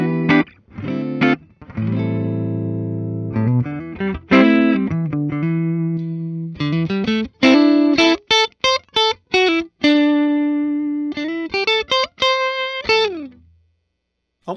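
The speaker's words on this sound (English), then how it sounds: "I really love the clean tones on this guitar." A 2017 PRS McCarty 594 Double Cut electric guitar with a quilt top plays clean tones, with strummed chords and picked single notes ringing full and round, alone and up close, ending with a brief fade to silence.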